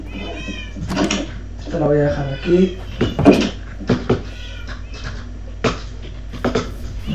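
Cats meow in the video game Minecraft, several short meows scattered through the clip alongside clicking and thudding game sounds, while someone talks over them in Spanish.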